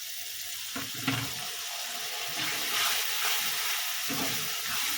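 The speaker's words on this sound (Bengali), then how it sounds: "মশলাটা কষানোর জন্য অল্প করে একটু জল দিয়ে দিচ্ছি" Water is poured in a little at a time into spice paste frying with Kashmiri chilli powder for an echor chingri dish, giving a steady running hiss and sizzle with a few brief splashes and no talk.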